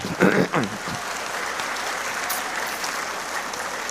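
A crowd breaks into steady applause during a political speech at a national organizational meeting in Indonesia, loud and sustained, with a brief voice at the very start before the clapping fills the room.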